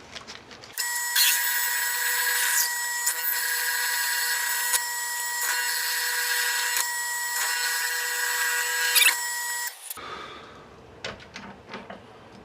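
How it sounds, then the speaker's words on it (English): Power drill boring through a stabilized Hawaiian curly koa hybrid pen blank with a 25/64 bit, a loud, steady high-pitched whine running about nine seconds, then stopping abruptly into quieter handling clatter. "in order to drill this out we need to use a 25/64 drill bit."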